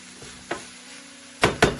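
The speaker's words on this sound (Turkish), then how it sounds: "Şimdi salçamızı kavuruyoruz. Karıştırarak kıymamızı yediriyoruz." Tomato paste and minced meat fry in a pan with a soft, constant sizzle. A few spoon scrapes come early, then three quick louder stirring scrapes land near the end.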